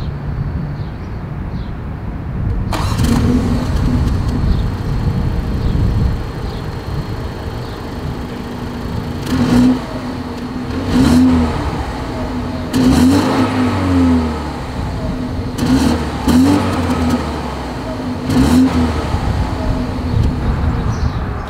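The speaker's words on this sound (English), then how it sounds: "As always, here is that exhaust clip." A 2023 BMW X2 with the GoldPlay Package runs its engine and exhaust, a steady loud idle drone broken by several sharp revs that rise and fall back, heard up close with no talking.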